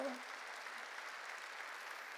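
Church congregation breaks into applause, a soft, sustained wash of clapping heard at a distance throughout, with a brief voice at the very start.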